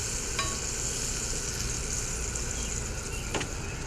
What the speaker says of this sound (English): That skillet's rocking right now. It's sizzling.